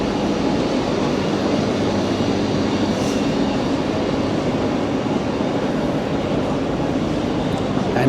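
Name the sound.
train at a platform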